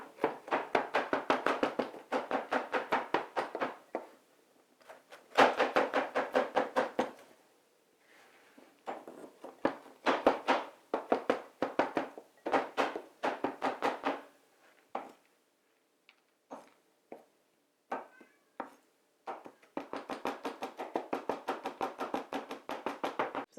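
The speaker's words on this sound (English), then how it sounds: "Pecans, when I want to chop them, they're already chopped, but I want them smaller." Rapid, close knife chops strike a board while already chopped pecans are cut smaller, coming in dense bursts of quick taps separated by short pauses, with no voices.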